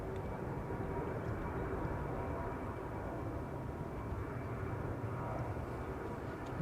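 A SunExpress airliner takes off from Schiphol's Polderbaan runway, a faint, distant, steady jet roar that holds without a break.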